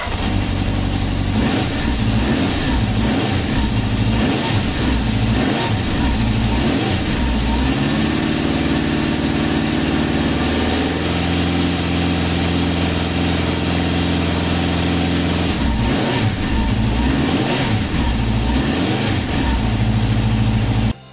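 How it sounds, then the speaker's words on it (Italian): A 1972 Honda Four 750 dry-sump motorcycle engine runs close by, pulsing revs blipping up and down, then settling into a steadier idle before revving again. "facciamo girare il motore fino a che la spia dell'olio non si sarà spenta"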